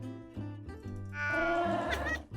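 A Minecraft cat in the video game lets out an odd, drawn-out meowing yowl, rising into a harmonic-rich wail in the middle, loud and close with no talk over it.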